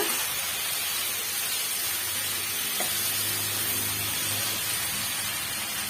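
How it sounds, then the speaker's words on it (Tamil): Chopped tomatoes sauté in hot oil for a Tamil pirandai chutney, a dense steady sizzle with crackling hiss, close and continuous, briefly disturbed by a stir partway through, with no talk. "சேர்த்துட்டு ஓரளவுக்கு இந்த தக்காளி பழம் நல்லா வதங்கி வர வரைக்கும் நம்ம வெயிட் பண்ணலாங்க"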